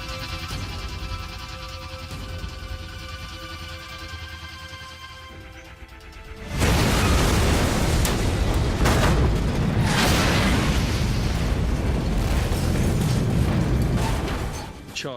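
A 100-gram charge of RDX plastic explosive with a detonator, set on top of a washing machine, goes off in one sudden loud boom after a quieter stretch, followed by a long roaring, crackling tail of blast noise and debris.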